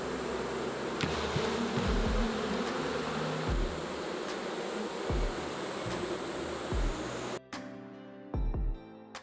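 Honey bees buzzing around beehives on a farm, a dense continuous drone close by, with occasional bees zipping past and a few low thumps near the end.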